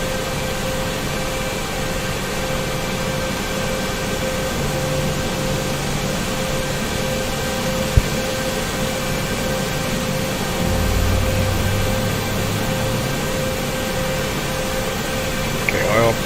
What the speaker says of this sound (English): Start the next engine.